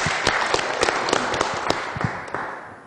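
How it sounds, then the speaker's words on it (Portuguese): An audience applauds as the central guest is led to the center of the stage, a busy mix of clapping with a few sharp individual claps standing out, steady and fairly close. "recebendo os aplausos"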